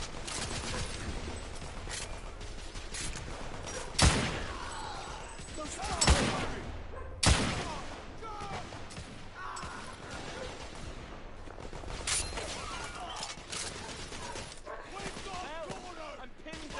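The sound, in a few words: gunfire in the video game The Order: 1886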